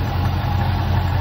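A car engine fitted with an Edelbrock carburetor and no choke idles steadily as it warms up, a close, even low rumble with no talking.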